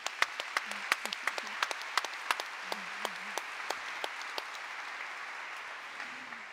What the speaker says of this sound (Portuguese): E para Machado de Assis eu peço também aplauso